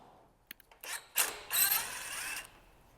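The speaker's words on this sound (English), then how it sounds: "we're going to remove this Phillips screw right here" A Phillips screw is driven out of the plastic bumper spacer on a 2016–2021 Honda Civic fender bracket, heard as a few small clicks followed by two short whirring runs of a powered driver, close and fairly quiet.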